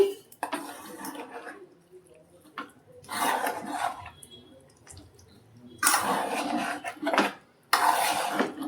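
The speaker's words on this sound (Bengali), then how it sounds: "চামচ দিয়ে ভালো করে মেখে নিই।" Spoon clinking and scraping in a bowl while mixing chicken with soy sauce, vinegar, turmeric, chilli powder, pepper and salt, in uneven bursts of metallic stirring with quiet pauses between.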